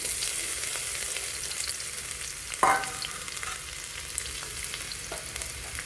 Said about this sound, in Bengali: যেহেতু ভাজি করতেছি, ভাজির মধ্যে কিন্তু পেঁয়াজ কাঁচামরিচটা একটু বেশি লাগে